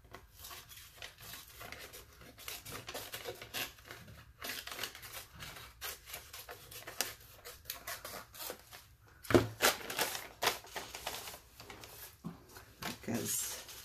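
Scissors snip through very thin paper for a shabby-chic altered composition book, producing quiet, irregular crisp cuts with soft paper rustling throughout and a louder cluster of snips near the end.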